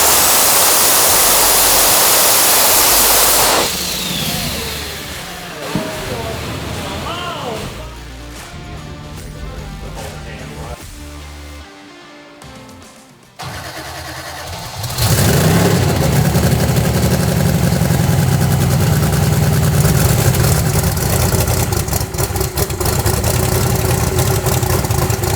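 A high-horsepower car runs on a FuelTech hub dyno with a loud, sustained engine roar. It eases off partway through and then surges back to a heavy, continuous full-load drone.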